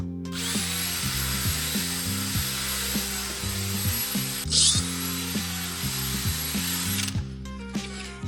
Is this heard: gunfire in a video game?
no